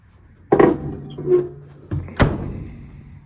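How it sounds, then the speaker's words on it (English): The doors of an old Ford Highboy farm truck are shut, giving two solid, heavy thunks about two seconds apart, close by, with a little rattle between them. "Doors closed really nice."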